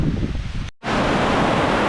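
Torrential rain pours down outside during a storm in a Philippine province, a loud dense roaring hiss that breaks off for a moment and then returns just as heavy.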